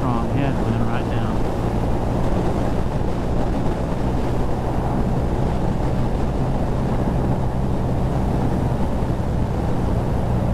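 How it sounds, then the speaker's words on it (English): Strong headwind roaring steadily and loudly against a BMW R nineT motorcycle riding up from Hells Canyon, with a low engine drone underneath throughout. "Got a really strong headwind right now."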